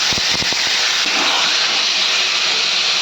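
Marinated mutton drops into hot oil with reddish fried onions for a Dak Bungalow curry, setting off a brief clatter followed by a loud, steady, hissing sizzle.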